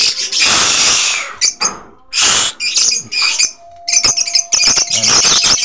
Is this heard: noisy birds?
yes